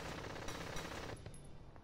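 Rapid automatic gunfire from a battle in the video game Valkyria Chronicles, a dense continuous burst of shots lasting under two seconds with no talking over it.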